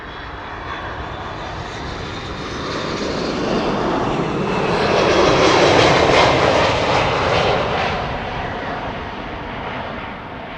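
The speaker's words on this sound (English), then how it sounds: "This is Delta Airlines Flight 144 arriving from Seattle, Washington" A Delta Airlines jet airliner on its Seattle arrival lands at Amsterdam Schiphol Airport, a broad rushing engine roar that swells to a peak midway and then eases off. The roar is steady and fairly loud, with no clear talking.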